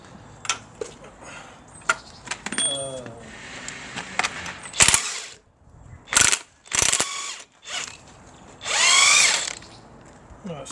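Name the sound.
undoing nut with deep 27 mm socket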